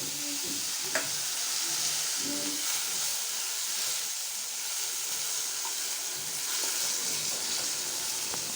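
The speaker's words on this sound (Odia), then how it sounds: "ତାପରେ ସେଥିରେ ମୁଁ ପିଆଜ ଆଉ ଟମାଟୋ ପକାଉଛି।" Onion and tomato frying in hot oil, a steady close sizzle and hiss with occasional stirring scrapes and a few soft clinks throughout.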